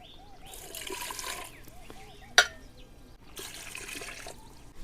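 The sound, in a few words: pouring water into pressure cooker with bitter gourds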